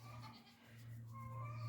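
Nigerian dwarf goat kids bleat softly at a distance, two or three thin wavering cries over quiet farm background, with no talk.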